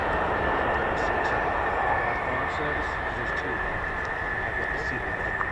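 F-15 fighter jets of the 555th Fighter Squadron at RAF Lakenheath roar steadily and loudly throughout, a broad continuous engine rumble with a sustained high whine, with faint voices underneath.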